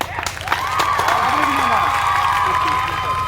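A crowd at a Navaratri gathering outside a Durga temple claps and cheers for the winner of a push-up challenge, a loud burst of applause with shouts, and a voice calling out over the noise.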